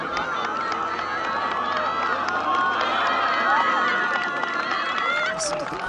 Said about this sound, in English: Listen to the crowd willing it down that hill.